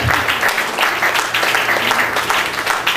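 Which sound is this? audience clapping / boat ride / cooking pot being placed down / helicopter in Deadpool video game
audience clapping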